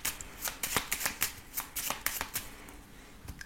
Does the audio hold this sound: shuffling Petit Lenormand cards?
yes